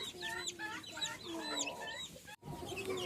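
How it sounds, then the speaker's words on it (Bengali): Several silkie chickens cluck and chatter in quick, overlapping calls, close and fairly loud, with a brief dropout near the end. "দুই জোড়া সিল্কি যাচ্ছে"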